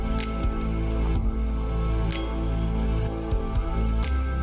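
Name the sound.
mixing rice and soya chunks with masala in vessel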